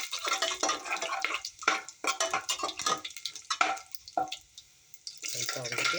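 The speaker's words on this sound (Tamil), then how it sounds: "கொஞ்சம் அப்படியே எண்ணெய் காய்ச்சி ஒன்று லைட்டாக நம்ம அந்த" Masala sizzles and fries in hot oil in a pressure-cooker biryani pan, with a spoon stirring and scraping against the vessel in busy, close bursts under faint voices.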